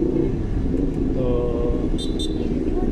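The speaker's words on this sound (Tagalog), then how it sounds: "Medyo marami ng sasakyan." Steady road traffic with many vehicles on Bacoor–Kawit Road, cars and motorcycles rumbling continuously nearby, with a brief higher-pitched horn-like tone partway through and a voice talking over the drone.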